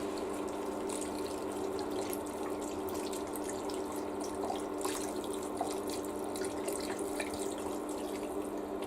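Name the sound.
pouring seafood stock into a pot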